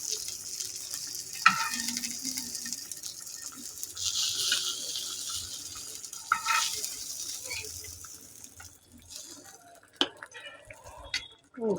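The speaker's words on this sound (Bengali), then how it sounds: "চিংড়ি মাছগুলো ভাজা হয়ে গেছে আমার, এখন চিংড়ি মাছগুলো দিয়ে দিব" Fried prawns go into a bubbling jackfruit curry, giving a continuous close sizzle with occasional utensil knocks and clinks against the pan.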